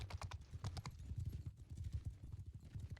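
Cavalry horse hooves clip-clop in a real-time strategy game, a quick busy patter of many hoof taps running steadily and fairly loud throughout, with a faint whinny.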